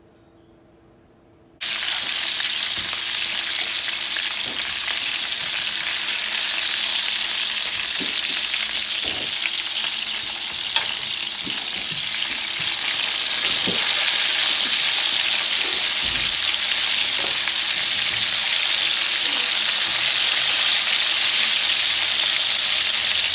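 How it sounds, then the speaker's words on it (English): Steady, loud sizzling of oxtails browning in a hot skillet, continuous throughout with occasional small pops and clinks, starting abruptly after a brief silence. "I'm gonna bring it to a brown in my skillet before I start boiling it"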